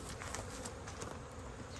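Dense buzzing of many honey bees at a hive fills the clip, a steady close droning hum with small shifts as insects move around nearby.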